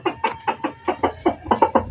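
Chickens or other fowl cluck near the microphone in quick, regular bursts, about nine short calls in under two seconds, loud and with no other sound.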